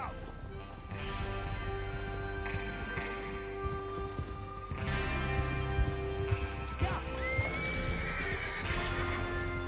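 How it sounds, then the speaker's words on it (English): Horses snort and whinny over a steady clatter of galloping hooves in a video game, with music and ambient sounds layered throughout. "Get your horses ready."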